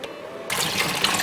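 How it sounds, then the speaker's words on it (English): Water is poured into a pot of vegan Danish rice porridge, a sudden steady splashing gush that starts abruptly after a quiet moment and continues close and loud. "we have to add in a liter of water"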